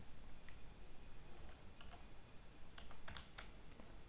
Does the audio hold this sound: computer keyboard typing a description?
yes